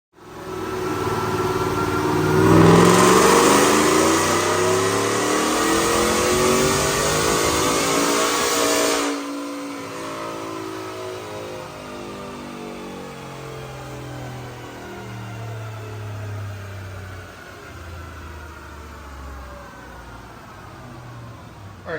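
A 2024 Ford F150 fitted with a Whipple Stage 2 supercharger and long-tube headers, running 93 octane, makes a loud dyno pull. The engine revs hard and climbs steadily through the run, then drops off and winds down with a rumbling, whirring coast.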